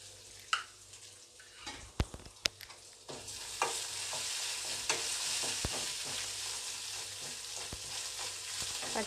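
Green chili paste frying in a pan while being cooked for lemon rice, a steady close hiss of sizzling oil with scattered sharp pops and clinks of a stirring spoon against the pan, rising louder midway.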